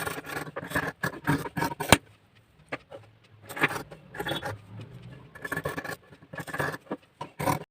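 Scissors cut through fabric for stitching in quick rhythmic bursts of crisp snipping and rasping, with short pauses between runs of cuts.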